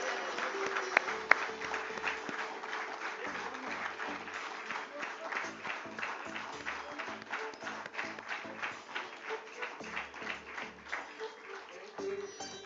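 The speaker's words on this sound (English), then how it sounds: "And one more round of applause, everyone." Applause from a crowd at an IPO listing ceremony at India's NSE, a steady patter of clapping that grows more rhythmic toward the end, with a voice speaking over it.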